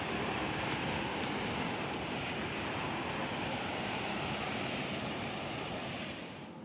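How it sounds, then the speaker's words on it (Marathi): Sahastrakund waterfall, overflowing after monsoon rain, gives a dense, continuous roar of rushing water that stays loud and even throughout, then eases slightly at the very end. "हा धबधबा ओसंडून वाहत असल्याचं पाहायला मिळतं"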